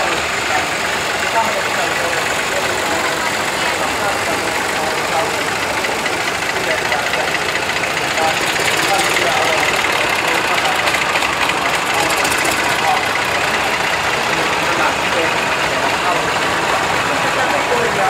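A tractor engine runs steadily at an old-tractor parade in Riihimäki, Finland, in 2017. It makes a loud, continuous, rough chugging drone close by for the whole stretch, with voices over it.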